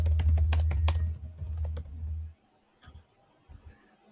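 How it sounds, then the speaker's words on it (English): Rapid keyboard typing with clustered clicks over a low hum for about two seconds, then a few scattered, fainter taps with quiet pauses between them. "That's the sound of Ron typing comedy"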